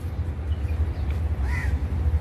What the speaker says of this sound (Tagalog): Ang dami ring ibon dito guys.